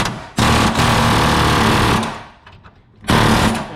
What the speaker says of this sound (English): now he's going to take the air hammer and just knock that off